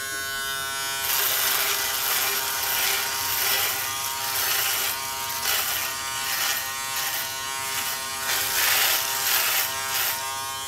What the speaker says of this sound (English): I'm gonna go ahead and finish up my dry shave